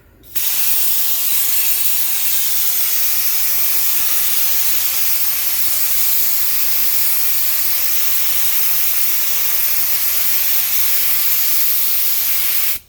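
A steady, loud rush of compressed air from a Merlin high-flow blowgun blowing continuously for about twelve seconds, a broad hiss that starts and stops abruptly.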